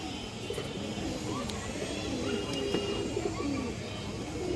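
Pigeons coo repeatedly in a loft where a large white female pigeon is kept, a low rolling burble close by over a constant background hiss.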